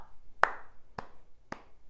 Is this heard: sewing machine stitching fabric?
no